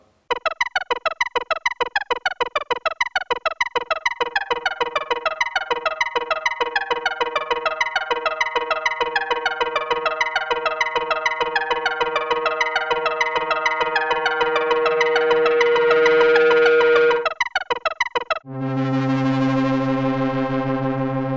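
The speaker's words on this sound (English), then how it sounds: "By using different feedback and clock filter settings, you can shape the reverb-like sound pretty well." Erica Synths Black BBD analog delay producing a reverb-like wash: a repeating pulsed tone smears into dense, shimmering echoes that build, cut briefly, then return as a sustained ringing tail.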